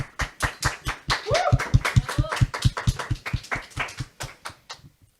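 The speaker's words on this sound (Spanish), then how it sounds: "Un aplauso para Jessica, que va a comenzar con su tema." A crowd applauds in steady rhythmic claps, loud at first and gradually tapering off, with a brief whoop or cheer partway through.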